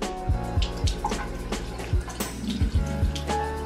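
Running water while makeup is washed off at a sink: a steady faucet stream with repeated splashes and drips as hands scoop and rinse, close and moderately loud.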